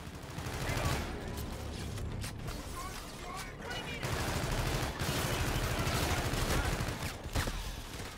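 Ship-mounted Aedis guns firing on an enemy fleet in Call of Duty: Infinite Warfare, a sustained, dense barrage of rapid shots with mechanical rattling, quite faint and continuous throughout.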